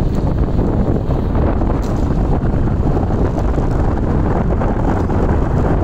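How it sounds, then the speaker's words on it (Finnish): Steady, heavy wind buffeting the microphone of a cyclist riding downhill on a long road ride, a continuous loud rumbling roar that fills the whole stretch with no pauses. "Kuuluu varmaan vähän tuulen virettä tässä näin."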